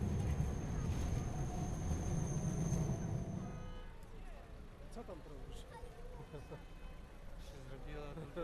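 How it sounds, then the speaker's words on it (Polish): A tram rumbles loudly past at close range in Poznań, Poland, its low roar fading after a few seconds into quieter street noise with faint chatter. "To jeżdżą takie tramwaje po Poznaniu na razie"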